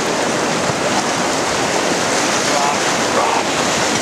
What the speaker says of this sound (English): Go through a little more rough water, so it's going to be bouncy.